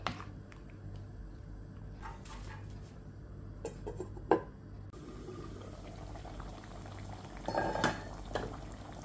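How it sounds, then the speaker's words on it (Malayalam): A covered pot of curry bubbles gently at a low simmer, with a few clinks of a lid and utensils against metal. "ഇനി നമുക്ക് അടച്ച് വെച്ചിട്ട് ഒന്ന് വേവിച്ചെടുക്കാം"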